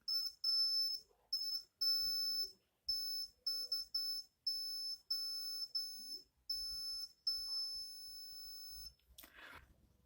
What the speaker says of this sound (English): the LED starts to blink and the buzzer starts to beep.